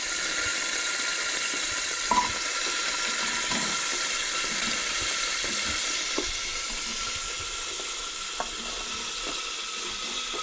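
Mixed vegetables with potato sauté in a pan for pav bhaji, giving an even, watery sizzle with occasional soft taps of a spoon, with no voices.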